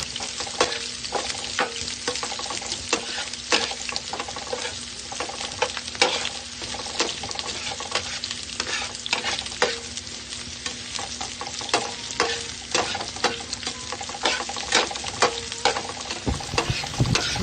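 Onion and garlic fry in a pan for chicken adobo, giving a loud, steady crackling sizzle with frequent scrapes and clicks from stirring, heard up close without a break.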